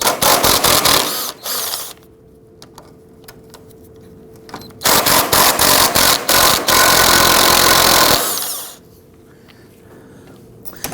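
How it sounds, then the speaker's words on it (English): A power tool loosens the bolts holding the AC condenser on a Volvo XC60, giving two loud whirring bursts with a quieter pause between, recorded close up. "We're going to remove the other 2 bolts on the passenger side."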